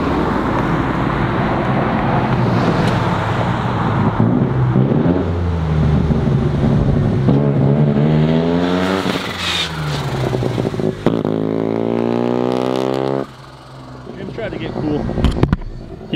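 A 650cc single-rotor rotary engine speedster revs and shifts through gears as it drives past, loud and close, with a high-pitched whine rising and falling over steady road noise.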